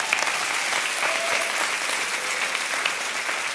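A crowd applauds in a church, a dense, even wash of clapping that carries on for several seconds.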